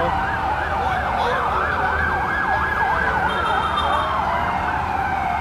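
Wailing fire engine sirens from many fire trucks rise and fall continuously at a fire in Sampaloc, Manila, with several overlapping tones over steady traffic rumble; fairly loud and sustained.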